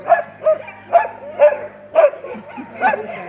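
Sled dogs bark at a kennel in Denali National Park, sharp close barks repeating in a steady rhythm about every half second over a low constant hum.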